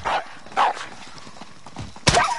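A dog in a tactical shooter video game barks in a few sharp, loud yaps spaced across a couple of seconds, with a final abrupt burst at the end.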